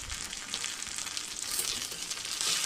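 Chopped medium tomato hits frying onions in a pan for a bottle gourd and egg dish cooked with little oil, giving a steady, close, hissing sizzle that swells slightly toward the end.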